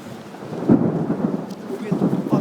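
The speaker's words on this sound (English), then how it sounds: "it's pouring down. That's the fucking rain." Heavy rain pouring down during a thunderstorm in New Hampshire, with a low rumbling of thunder swelling under a dense wash of rainfall, loud and continuous.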